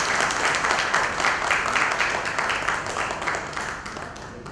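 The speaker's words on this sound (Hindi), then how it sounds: "एक बार जोरदार तालियों से स्वागत करें।" An audience at an award ceremony applauds loudly and steadily for several seconds, a dense crowd of clapping that slowly fades.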